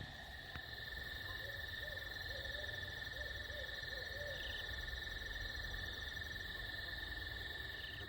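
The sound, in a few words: barred owl calling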